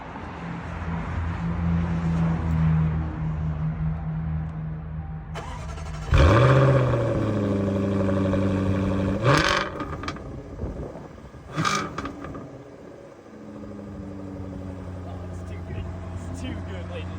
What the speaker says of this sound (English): So we're going to start off every Motor Monday with a cold start.